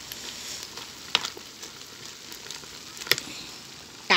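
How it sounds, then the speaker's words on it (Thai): Cheek leaf curry with grilled fish and pork rind bubbles in a pot, giving a faint, steady crackle and patter with a few louder pops, and no voices. "นี่นะฟังเสียงปอกแปะปอกแปะปอกแปะน้ำแกงเดือด"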